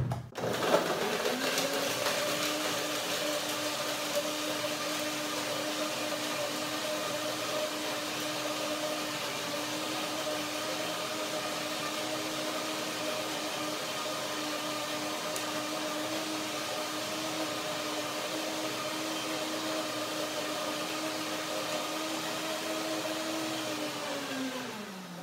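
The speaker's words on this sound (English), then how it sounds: "I try now to blend it and see what the texture says" A kitchen blender runs steadily for about twenty-five seconds, blending a thick mango and lemon cream, with a loud, even motor whine that spins up at the start and winds down at the end.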